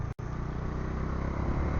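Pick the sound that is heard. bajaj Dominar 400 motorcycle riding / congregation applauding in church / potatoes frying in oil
bajaj Dominar 400 motorcycle riding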